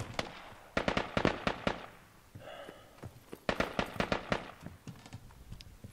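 Rapid bursts of gunfire from the military shooter game Squad, loud clustered shots in two volleys separated by a brief lull with a faint mechanical whine, crackling like firecrackers.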